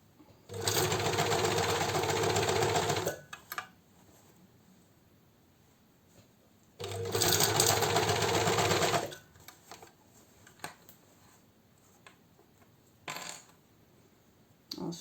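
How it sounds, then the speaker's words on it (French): Two loud bursts of rapid machine stitching, each about two to three seconds, as a sewing machine sews a neckband onto a T-shirt, with quiet pauses, fabric handling and small clicks between. "Et je viens coudre en étirant légèrement uniquement la bande d'encolure, hein, pas le t-shirt dessous"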